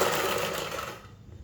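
A sewing machine stitches around the neckline of a bubu dress in a continuous fast whirring run, close and steady, then stops abruptly near the end.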